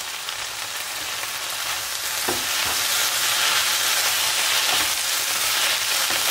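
Chopped spinach goes into a pan of frying palak sandwich filling, a sharp clatter followed by steady, loud sizzling and stirring.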